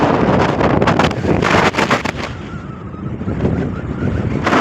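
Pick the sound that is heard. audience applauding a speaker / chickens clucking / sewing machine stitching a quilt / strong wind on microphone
strong wind on microphone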